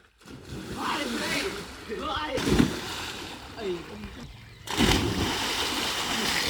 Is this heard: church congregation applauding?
no